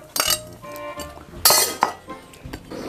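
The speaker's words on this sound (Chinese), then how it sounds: "20分钟过后，把洋芋和芋儿放下去" Potato and taro chunks dropped into a metal cooking pot with lid and utensil clinks, a few sharp close knocks and rattles over about three seconds, no talk.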